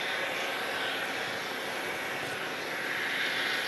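Airliner engines roar at Phoenix Sky Harbor airport, a loud, steady, broadband rumble and whine that holds evenly throughout with no talk.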